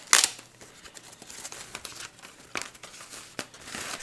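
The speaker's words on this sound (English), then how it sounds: "nice little covering here for the keyboard so it doesn't get damaged in shipping" Protective plastic covering peeled and crinkled off a WASD Code keyboard during unboxing, with close, sharp crackles and rustling bursts at irregular intervals, loudest at the start.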